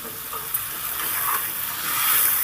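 Spice paste for a silver carp fish curry is stirred in a frying pan over medium gas, giving a steady soft sizzle and hiss with light scraping throughout, close and fairly quiet.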